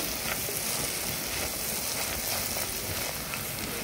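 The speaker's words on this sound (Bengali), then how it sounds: "এটাকে অল্পক্ষণ আমি ভাজা করে নেব হালকা, যাতে কাঁচা টমেটোর গন্ধ না থাকে।" A tomato mixture for mustard pabda fish curry fries in a pan, with a steady, dense sizzle that stays close and even throughout, with no voices.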